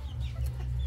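Chickens on a small poultry farm with young chicks, clucking in short repeated bursts over a steady low background, close and moderately loud, with no voices.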